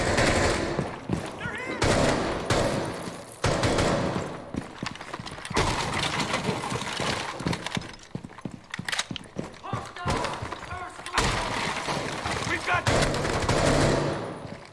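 Gunfire from the video game Rainbow Six Siege during aim warm-up, with bursts of rapid shots and single reports in repeated clusters, loud and busy, with someone talking over much of it.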